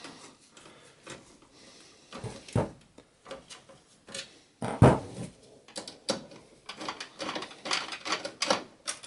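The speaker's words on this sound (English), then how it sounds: "And you have to use a Phillips screwdriver." Phillips screwdriver working screws out of a Dell Optiplex GX280 desktop case, heard as scattered close clicks, scrapes and metallic knocks at irregular intervals.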